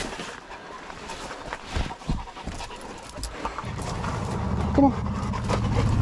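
Dogs pant and whimper close by at Waitakere Dam, with irregular breathy bursts and small yips under a person's brief spoken encouragement.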